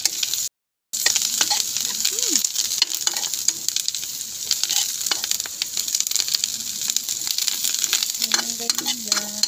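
Vegetable leaves fry in a pan with a steady bright sizzle, stirred with a utensil that scrapes and taps at intervals, continuous and close, with a brief dropout near the start.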